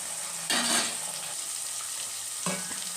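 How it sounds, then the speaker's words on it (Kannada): Rice and field beans fry in a pot with a continuous sizzle, broken by two bursts of stirring that briefly scrape and rustle louder. "ನೋಡಿ, ಇದು ಫ್ರೈ ಆಗ್ತಾಯಿದೆ."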